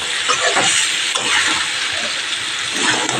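Ginger paste, pumpkin stems and potatoes sautéing in oil, giving a loud, close, continuous sizzle and crackle with soft stirring movements mixed in.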